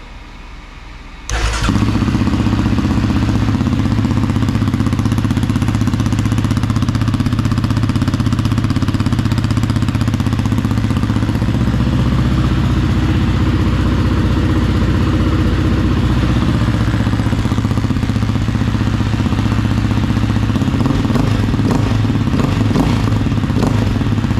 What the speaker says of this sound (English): Just do a quick sound test. I do have the silencer in that exhaust right now